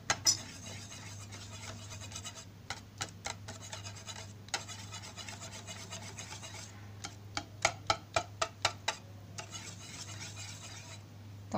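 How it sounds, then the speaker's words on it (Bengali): Batter for patishapta pitha, mixed with ghee, stirred by hand in a bowl, with repeated quick clicking and scraping strokes in bursts over a low steady hum. "এটা দিয়ে এটা ভালোভাবে মিক্স করে নিতে হবে।"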